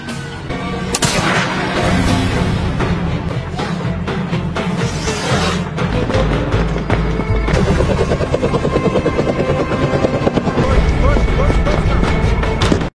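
A rescue team's helicopter in an action film scene, loud and continuous, buried in a dense soundtrack with booming blasts and gunfire-like bursts throughout.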